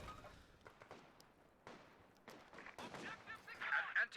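Gunfire rattles during an infiltration grenade assault in Company of Heroes 2, with scattered shots and bursts building into denser, louder fire toward the end.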